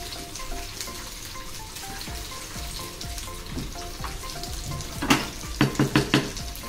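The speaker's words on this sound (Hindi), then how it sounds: "ग्रेवी में हमारा पका हुआ चिकन डाल देंगे। और चिकन डालने के बाद इसे अच्छे से मिक्स कर लेंगे।" Cooked chicken stirred into a sizzling butter chicken gravy: a steady frying hiss throughout, then several sharp spoon knocks against the pan near the end, with no talking.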